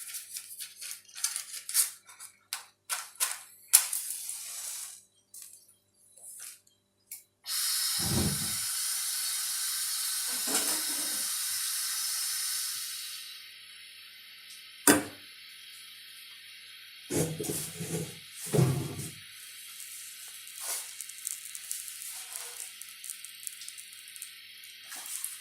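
Fire being lit under a pot holding three spoons of coconut oil and three spoons of black seeds (kalonji): scattered clicks and rustles, then a steady hiss lasting several seconds, followed by a few sharp knocks and softer crackles. No one speaks.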